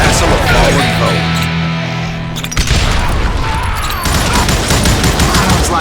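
Hired gunmen's gunfire in Call of Juarez: Gunslinger, a loud, chaotic fusillade of overlapping shots and booming blasts mixed with a musical score and voices talking.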